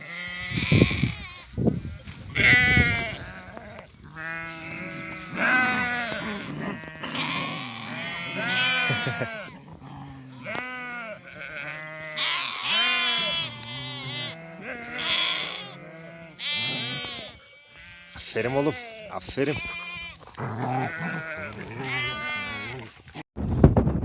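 Sheep bleat again and again on a windy highland pasture, several close animals calling in overlapping wavering cries, with someone speaking briefly between them.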